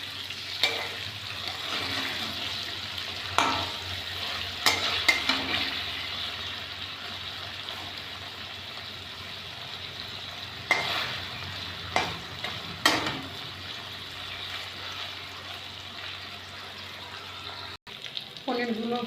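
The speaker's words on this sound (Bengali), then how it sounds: "পনির ভাজার সময় একটুখানি নুন ছিটিয়ে দিয়ে ভাজলে পনিরটার ভেতরে ভালো নুন যাবে।" Paneer pieces frying in oil with a light sprinkle of salt, giving a steady moderate sizzle with occasional clinks and stirring scrapes, close by and without talk.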